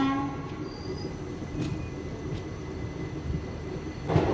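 The 17418 Shirdi–Tirupati weekly express pulls out of Gooty Junction with a steady low rumble of rolling carriages, a faint horn tone early on, and a sharper burst of wheel or horn noise near the end.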